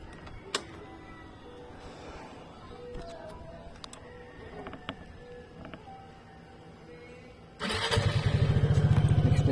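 After an air filter change, an Easyride 150FI motorcycle is heard against faint clicks and background noise. Its engine then kicks into a loud, close, steady running drone for the final couple of seconds.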